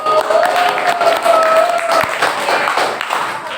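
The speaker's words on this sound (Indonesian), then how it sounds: "Tepuk tangan dulu untuk hari ini." A class of students clapping in a religious education lesson, a dense burst of claps that holds steady for a few seconds, with a voice speaking over it.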